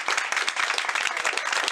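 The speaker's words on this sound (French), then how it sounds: "il a déjà été applaudi, mais je pense qu'on peut encore le faire" An audience applauding swimmer Louis Lecourt at a gathering in Comines, a short burst of lively clapping from many people with distinct individual claps.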